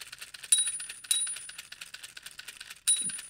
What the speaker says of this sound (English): dings that bell every couple seconds.